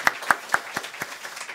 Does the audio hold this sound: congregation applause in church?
yes